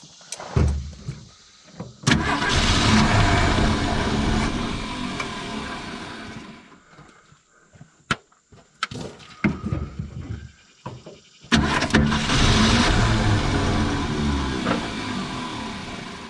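A 1970 Ford Falcon that has sat in a junkyard for 28 years cranks. Two long bursts of starter whirring and churning come from close by, with clicks and clunks in the quieter gap between them.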